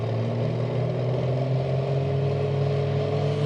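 Needle-nosed Peterbilt truck roaring at a night truck pull on a hillside dragway track, a loud steady engine drone with deep low rumble held without letup, no voices over it.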